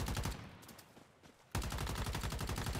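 Rapid automatic gunfire from base defense turrets in Once Human rattles in dense bursts, briefly thinning before resuming loud and sustained.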